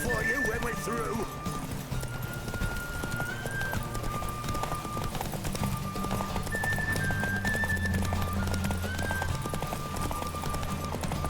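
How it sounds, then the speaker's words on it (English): Horse hooves clip-clopping at a gallop during a race in the video game The Witcher 3, with a whinny near the start, all under steady game music and a voice. "Faster, Beecher, faster. Got a ripe apple for you when we're through"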